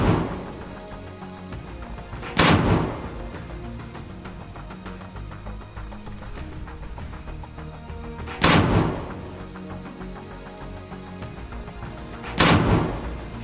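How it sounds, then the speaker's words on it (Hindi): Hamas fighters hidden among greenery fire rockets from a launcher in the Rafah fighting: three loud, sharp booms several seconds apart, each fading quickly over a steady background rumble. "हमास ने इसका एक वीडियो भी जारी किया है, जिसमें हमास के कुछ लड़ाके हरियाली में छिपकर लॉन्चर में रॉकेट भरकर दनादन दाग रहे हैं।"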